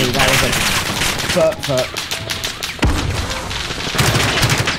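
Dense, rapid gunfire from several weapons in Call of Duty, with overlapping bursts and shots running almost continuously and loud throughout, mixed with the player's speech.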